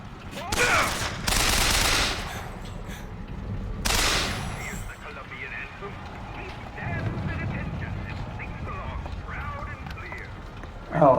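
Video game pistol shots: a few loud bursts of gunfire near the start, then quieter scattered battle noise with faint background sounds.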